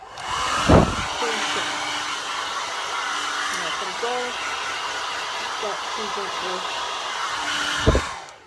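A handheld hair dryer blows on its medium number 2 setting while drying natural hair, a loud continuous whoosh from start to finish, with a voice talking softly underneath and a couple of handling bumps.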